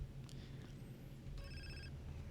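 A phone rings briefly in a video game, a short, faint electronic ring with steady harmonic tones sounding over low background hum, with no one talking.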